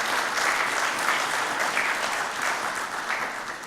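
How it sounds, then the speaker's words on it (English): A crowd applauds warmly at the ICAP Best Corporate Awards 2019 ceremony, a dense steady clapping that carries on throughout and eases slightly toward the end. "A very warm round of applause for these gentlemen."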